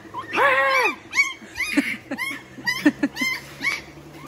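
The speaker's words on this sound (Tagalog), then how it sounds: "Aso di, aso di." A dog whimpers and yips in a series of short, high whines and squeaks, close by, with faint background noise between them.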